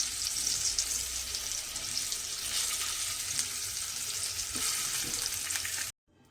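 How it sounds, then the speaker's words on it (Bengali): Potato pieces fry in hot oil, giving a dense, steady sizzle throughout at close range that cuts off abruptly near the end, with no talking. "আলুটা কিন্তু আমি এখানে লাল করে ভেজে নিয়েছি"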